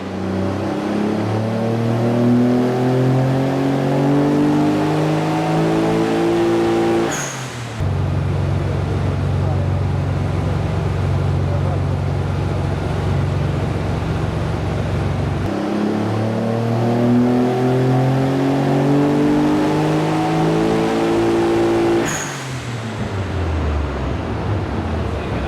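A twin-turbo Nissan 300ZX engine revs on a dyno under rising boost, climbing in two long pulls with a steady lower drone between them, loud and close.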